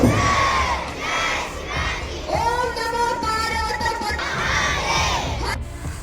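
Students at a school Shivaji Jayanti celebration in Jaykheda shout Shivgarjana war cries in unison, a loud crowd of young voices chanting in rising, sustained bursts that fill the space.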